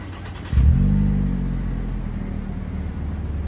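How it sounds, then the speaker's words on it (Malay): A Perodua Myvi engine with an aftermarket Y-pipe and muffler exhaust cranks and fires after a short pause, then settles into a deep, throaty exhaust rumble that keeps idling loudly. "Sekarang ni bunyi waktu aku start kereta."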